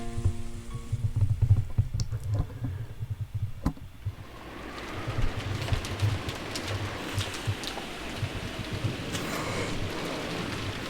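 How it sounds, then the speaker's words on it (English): Steady rain falling in a scene from the visual novel Umineko, a dense continuous hiss that swells after a few seconds, with faint bird calls and low rumbling underneath. "The rain poured down as though it had been saving up for this moment."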